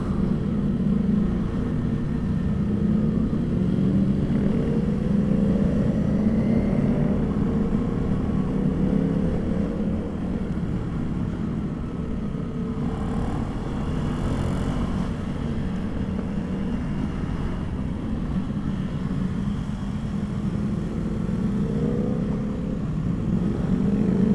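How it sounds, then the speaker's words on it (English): A Ducati V4 Multistrada motorcycle engine drones steadily through city riding, a continuous loud low rumble with rising and falling throttle changes under constant wind noise, no voices. "that's the V4 Multistrada."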